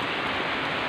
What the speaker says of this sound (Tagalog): Umuulan na guys.